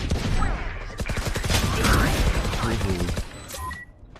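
Gunfire in the tactical shooter Valorant, a rapid burst of sharp shots packed into the first seconds, loud and close, then thinning out to a few scattered cracks, with a voice talking over part of it.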